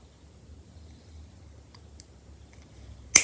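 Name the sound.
trimming jewellery wire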